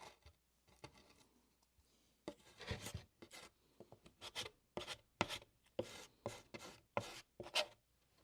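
A drywall tool sawing and scraping through drywall to cut out a hole, soft rubbing at first, then a run of sharper rhythmic rasping strokes, close up and without talk.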